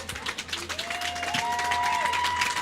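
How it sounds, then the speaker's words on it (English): Fans clap for a swimmer at a high school swimming meet between Woodland Hills and Penn Hills, a moderate, spread-out round of applause in a reverberant natatorium that swells slightly and continues steadily. "I think she deserves a round of applause here from the fans here at this meet"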